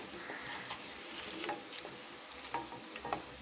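Powdered asafoetida drops into a sizzling tempering for gongura pachadi, making a faint, steady fry with light stirring scrapes and small pops.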